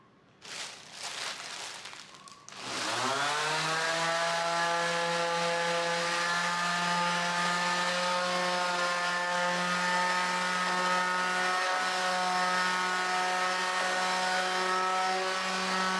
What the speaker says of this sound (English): Because I had no other places to sand the tabletop, I had to do it in the house.